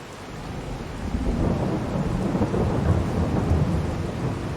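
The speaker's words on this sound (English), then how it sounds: "There's the rain." Steady rain pours with rolling thunder in the farming video game Farming Simulator 22, a dense continuous wash that swells slightly after the first second and holds without pause.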